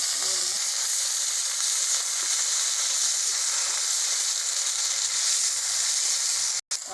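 Ginger-garlic paste with sugar, cloves and a bay leaf sizzles steadily in hot oil while cooking rui fish kalia, a loud, continuous frying hiss that holds for the whole stretch with no voices.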